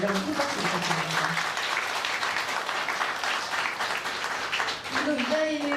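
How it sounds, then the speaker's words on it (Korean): An audience at a Los Angeles press meeting for a documentary applauds its guests in a steady, dense wash of clapping lasting the full stretch, with a voice briefly heard at the start and end. "여러분 큰 박수 부탁드립니다."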